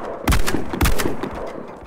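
Two sharp, loud shotgun blasts in Garry's Mod in a war-style setting, spaced about half a second apart, each followed by a short echoing tail.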